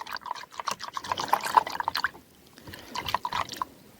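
A sachet of powder is stirred into a bucket of under 10 liters of water, turning it pink; water sloshes and drips, with small splashy bursts coming and going and a brief quieter pause midway.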